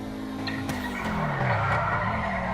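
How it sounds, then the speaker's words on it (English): Tires of a $2 million supercar squealing as it drifts through a turn, a loud sustained skid with falling pitch over engine noise, close by, no talking. "And it drifts."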